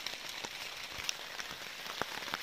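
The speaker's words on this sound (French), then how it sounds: "Les amis, ça y est, c'est le déluge." Heavy rain pours down at a forest campsite beside a dying campfire, a dense steady hiss with scattered sharper drops pattering on nearby surfaces, fairly quiet and without talking.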